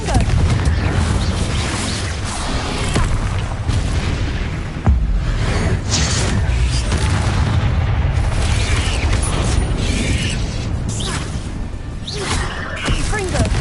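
Repeated Confringo blasting-spell explosions from Hogwarts Legacy, loud and dense booms running nearly continuously with a sharp burst near five seconds, over constant game noise and a busy action soundtrack.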